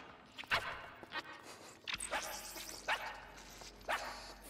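Dog barking indoors, a handful of separate short barks spaced about a second apart, moderately close but fairly quiet, with a faint steady hum in the background.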